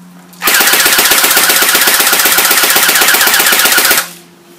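An airsoft P90 fires full-auto in one sustained burst of rapid, evenly spaced shots lasting about three and a half seconds, loud and close, then stops abruptly.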